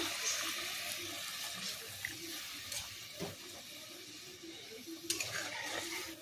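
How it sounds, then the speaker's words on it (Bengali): Salt water from soaking paneer poured into a pan for a masala, a steady faint wash of running liquid lasting several seconds with soft splashes near the end, no talk. "ওই যে পনিরটা ভিজিয়ে রেখেছিলাম নুন জলটায়, ওই জলটা দিয়ে দেবো"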